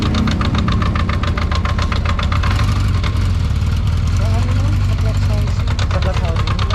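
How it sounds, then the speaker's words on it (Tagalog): A 1979 motorcycle engine on a cold night ride gives a loud, heavy rumble like a bulldozer, with steady pulsing knocks and a mechanical rattle throughout, close and unbroken. "Parang bulldozer yung tunog."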